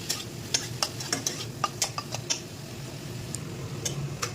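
A spoon stirs tomato fish curry with turmeric in a pan, giving a series of sharp, irregular scraping clinks over a soft, steady sizzle, close and fairly quiet.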